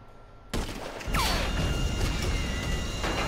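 A burst of heavy, noisy gunfire in GTA 5, loud and close, breaking in after a quiet moment and carrying on with a swooping whine and a clatter of crashing.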